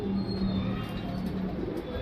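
Male Gerva Pilanka pigeon giving a low, steady cooing close by, repeated throughout over a faint background hum, with no voices.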